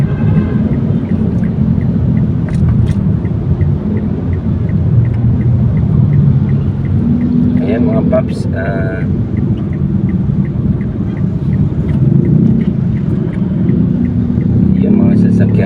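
Road traffic on Commonwealth with a counterflow lane, a continuous low rumble of passing vehicles heard close by, with someone talking over it and a few brief clanks.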